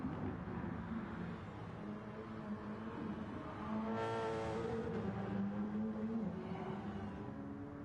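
Racing video game car pulling out of the pit lane during a 24-hour endurance race, with a steady engine drone that swells briefly midway as it accelerates, heard alone without speech.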